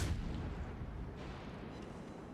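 A warship's guns fire in World of Warships Legends with a sharp, heavy boom at the start, then a low rolling rumble that stays steady and fairly faint, with no talking.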